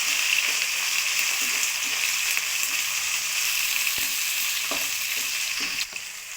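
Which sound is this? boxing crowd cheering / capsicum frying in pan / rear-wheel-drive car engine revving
capsicum frying in pan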